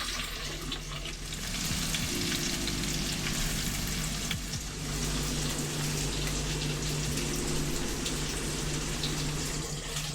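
Food searing in a pan over a low flame, a steady crackling sizzle that runs throughout at moderate volume, with faint kitchen clatter under it.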